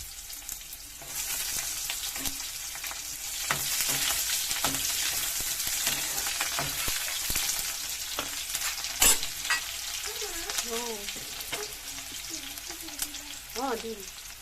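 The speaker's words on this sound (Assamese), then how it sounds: "আৰু এতিয়া দিছোঁ পিঁয়াজখিনি দিম" Sliced onions fry in a pan, sizzling steadily up close, with occasional stirring scrapes and a few faint tonal sounds late in the clip.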